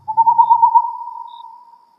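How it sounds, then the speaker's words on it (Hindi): A black owl's eerie hoot used as a sound effect in an animated horror story, a single clear close call that wavers briefly then trails off smoothly into silence. "फड़फड़ाते पंखों की आवाज के साथ एक काला उल्लू आकर गाब के पेड़ पर बैठा और अपनी डरावनी आवाज में बोल उठा"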